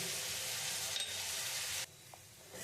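Ground spices, including chili powder, fry loudly in oil in a pan for Kashmiri aloo dum. A close, dense sizzle cuts off abruptly partway through, leaving a quieter background.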